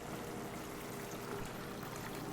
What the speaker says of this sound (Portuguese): Vou adicionar a água.